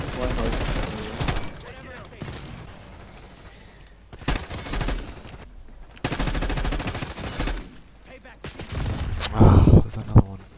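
Gunfire in the video game Black Ops 6: several loud bursts of automatic fire and single shots with pauses between them, mixed with game effects, while players talk over it.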